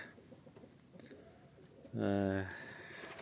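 Close pigeon coo, one short low throaty call about half a second long, standing out from quiet background noise with no one talking.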